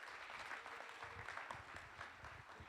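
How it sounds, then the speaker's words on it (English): A church congregation gives a warm round of applause during a service, the clapping faint and somewhat distant, a soft, continuous patter lasting a few seconds. "let's give Joel a warm round of applause as he makes his way up here"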